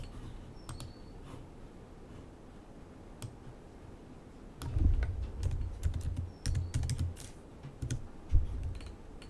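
Keys on a computer keyboard tap out in short bursts: sparse clicks at first, then a quicker, louder run of typing with a few clacks standing out, heard close up.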